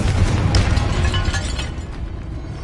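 A fiery Confringo spell blast in Hogwarts Legacy, a loud, booming explosion that hits right away and then rumbles and crackles as it fades over a couple of seconds, with no voices.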